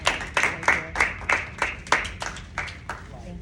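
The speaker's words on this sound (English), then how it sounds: "Clap it up for Dante, y'all." Hands clap in a steady, fairly quick rhythm at a community talk, about a dozen sharp claps in a row, close and clear, with no voices over them.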